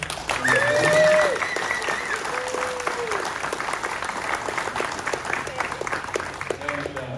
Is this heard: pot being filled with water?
no